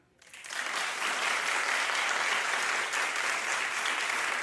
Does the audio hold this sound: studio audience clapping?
yes